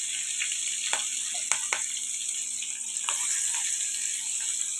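Chopped onion and green chili fry in a pan for a dried fish, cucumber and tomato curry, giving a continuous close hiss of sizzling oil with a few sharp crackles and pops.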